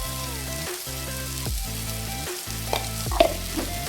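Soaked puffed rice being stirred through a spice masala frying in oil, with a steady sizzle and repeated scraping strokes of the spoon against the pan, close and clear.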